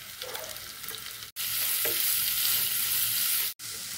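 Chopped onions and curry leaves frying in hot oil with garlic and pandan leaf, for a tempered fish-chilli dish; a loud, steady close-up sizzle and hiss that cuts out twice for a split second.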